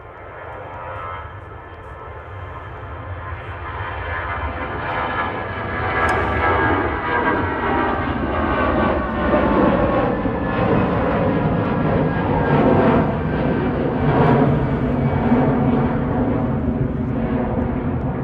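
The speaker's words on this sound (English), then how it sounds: "EasyJet 2169 departing to Amsterdam now. GEZWU A320 Classic." An EasyJet Airbus A320 Classic jet departs Manchester Airport for Amsterdam with a loud, steady roar of engines that rises slightly and holds throughout, with no talking.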